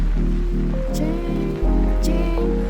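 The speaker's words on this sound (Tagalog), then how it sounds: "Maulan ang panahon. Tag-ulan na." Steady rain falling at a winery among the grape vines, a soft continuous patter with a low hum underneath and faint tonal bits, heard alone without talk.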